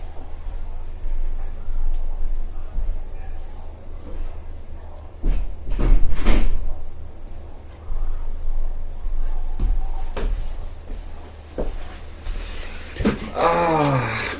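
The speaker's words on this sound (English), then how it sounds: "I'll go close the door somewhere." An indoor door is handled and closed with a few thuds and knocks, loud and close, over steady room hum, followed by a squeaky rattle near the end.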